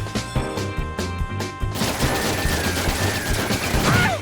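Rapid bursts of gunfire from enemies in the Trails in the Sky FC video game, a dense crackling volley that swells and stays loud for several seconds over steady game music.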